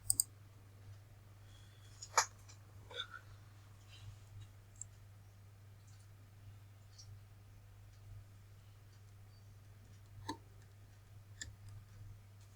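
Computer mouse clicks, a handful of sharp, isolated taps spread irregularly over a quiet background with a steady low electrical hum.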